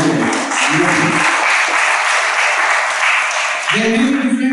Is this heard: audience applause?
yes